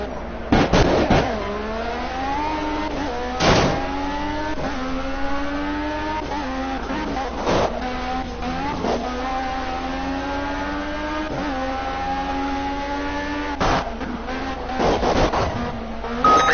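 Race cars in Project CARS on the final lap, engines revving and shifting through gears with rising and falling pitch, sharp bursts as cars pass, loud and continuous with a voice talking over it.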